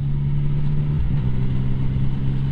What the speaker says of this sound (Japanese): 普通にこうやって走っててギアを普通に下げるとエンジンブレーキがかかります